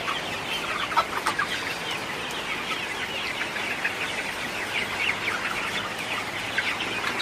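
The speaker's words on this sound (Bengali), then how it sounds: "বৃষ্টির মধ্যেও সকালে মুরগিকে পানি দিয়ে দিলাম।" Sonali super hybrid chickens clucking and calling inside a coop on a rainy morning, a dense, continuous flock chatter at moderate distance with scattered sharper calls.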